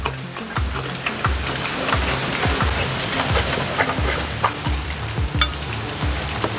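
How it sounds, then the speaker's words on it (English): Rain falls steadily, a dense pattering hiss of drops hitting a surface nearby, with scattered louder individual taps throughout and no talk. "today, it's raining."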